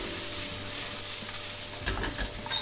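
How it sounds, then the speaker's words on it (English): Onions sizzling as they go into a hot pan, a steady broadband frying hiss with a few louder crackling bursts and stirring scrapes near the end, close and unaccompanied by talk. "so our onions straight into our pan. Doesn't matter if it's really hot, but just put your onions straight in"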